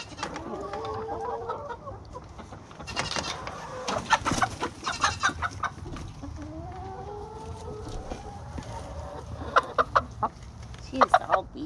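Naked neck chickens cluck repeatedly in a coop, close and fairly loud, with several birds calling over one another, bursts of sharper squawks toward the end and people talking quietly nearby.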